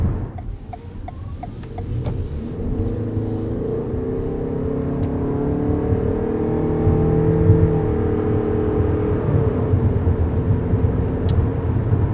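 A 2021 Toyota Venza hybrid accelerates with a smooth, steady engine drone that rises gradually in pitch and builds in loudness. A rising electric whine sits over it, heard from inside the cabin with no talking.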